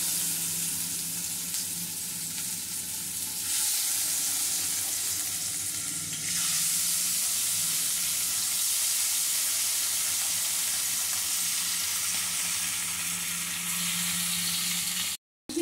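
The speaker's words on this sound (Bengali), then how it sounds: "তেলটা আমার গরম হয়ে গেছে এবার আমি মাছগুলো দিয়ে দিচ্ছি" Pieces of soft chital fish frying in hot oil, a loud, steady sizzle and crackle close by that swells in bursts as the pieces settle and are stirred, with no talk.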